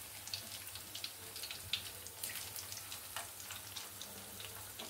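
Pieces of fish frying in oil in a pan over low to medium flame, a soft continuous sizzle with faint crackles and pops throughout, fairly quiet and alone with no talk.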